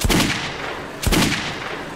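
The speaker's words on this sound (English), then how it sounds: "This is much better than the machine gun." Two heavy gunshots ring out in Metro 2033 Redux, each a sharp, loud blast about a second apart with a short rumbling tail.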